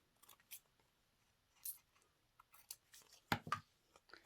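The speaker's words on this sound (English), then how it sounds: "I'm going to trim my edges." Scissors trim the edges of a paper card, giving a few soft, quiet snips in an irregular sequence, close up in a quiet room.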